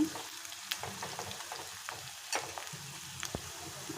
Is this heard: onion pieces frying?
yes